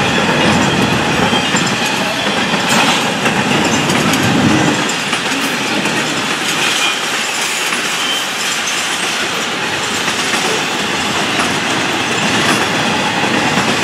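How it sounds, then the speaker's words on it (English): An FEC freight train rolls past slowly and close by in the evening, with a continuous rumble, rhythmic clanking of wheels on rails and faint metallic squeals. "Train creeping along the FEC101"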